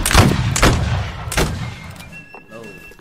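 Several close, booming musket volleys fire in quick succession in a Roblox game of 1st Minnesota Regiment drill, each blast followed by a short rumbling tail before quieter sounds.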